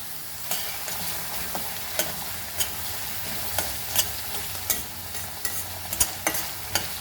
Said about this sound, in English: And fry the onion very, very nicely. Till golden brown.